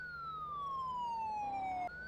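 Police car siren in the video game Farming Simulator 22, a single steady wail sliding slowly downward in pitch, loud and alone, with a brief break near the end before it restarts.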